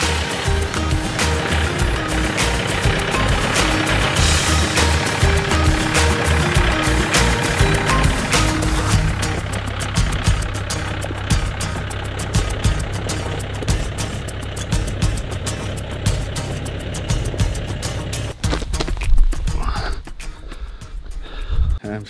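A new compact tractor drives toward a shop carrying a few pieces of lumber in its front bucket, its engine holding a steady, loud, continuous rumble that shifts partway through and thins out near the end.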